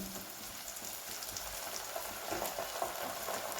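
Ginger garlic paste fries with softened tomato in a pan, giving a soft, continuous sizzle and crackle with faint stirring scrapes, close and fairly quiet, with no talking.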